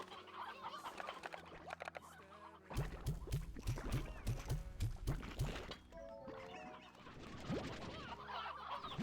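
A chicken in the It Takes Two video game clucks in a fast rhythmic series of loud squawks over game music and effects, with no speech.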